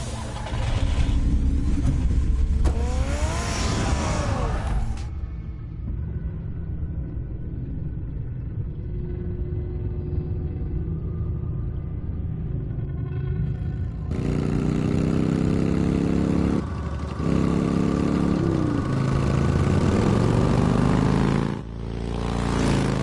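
Batman's car in the Batman Telltale game gives off a deep engine rumble and revving. It sounds loud at the start, drops to a quieter idle through the middle, then builds back up to a strong, close roar near the end.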